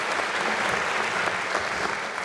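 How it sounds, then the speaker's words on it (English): Thick, continuous applause from a large audience at a medical school diploma ceremony. Many hands clap steadily at an even level with no break. "you can either applaud"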